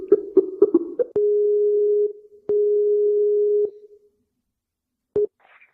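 A Skype call connecting tone: a few short blips, then two long steady electronic beeps separated by a pause, followed by a brief final chirp, clean and alone.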